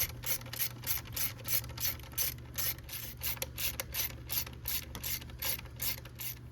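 A ratchet works 8 mm valve cover bolts loose on a Toyota 5VZ-FE 3.4L V6, a quick steady run of close, crisp clicking strokes over a low background hum.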